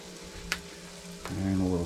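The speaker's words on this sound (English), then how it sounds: "we're going to grill some onion because that's definitely the best way to have one" Chopped onion sizzling in a pan on a woodstove at a solo cabin camp, a soft frying hiss with a couple of small clicks, swelling louder near the end.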